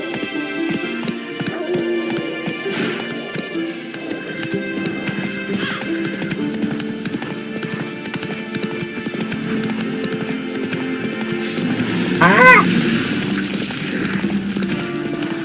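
A horse in The Witcher video game gallops with a continuous, loud clip-clop of hooves. A whinny is heard near the end, and no voices are heard over it.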